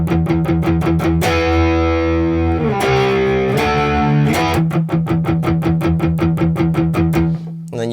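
A distorted electric guitar plays the choppy filler riff from a rock song, with rhythmic palm-muted chugs broken by a couple of ringing sustained chords.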